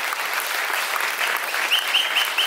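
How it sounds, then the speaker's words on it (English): Steady applause from a sizable crowd at an awards ceremony, a dense wash of clapping that holds even throughout, with a few sharper claps standing out near the end. "give the awardees a really big, big round of applause."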